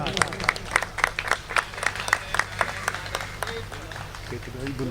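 Crowd applause at a community Diwali celebration organised by Rajasthani associations, with sharp rhythmic claps over a hum, voices mixed in, thinning out toward the end.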